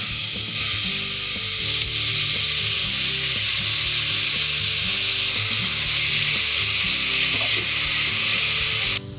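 Chopped vegetables go into a pan of softened onion and fry with a loud, steady sizzle close by, with stirring scrapes and a low background hum running under it throughout.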